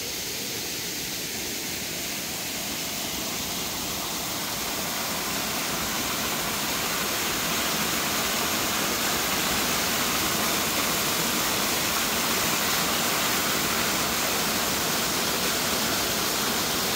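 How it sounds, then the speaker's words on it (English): Flooded creek flowing hard after heavy water, heard as a loud, continuous broadband rush that builds slightly and holds steady throughout, with no voices. "So anyway, yeah, we got floodage all the way down there. And you can see the creek way back there."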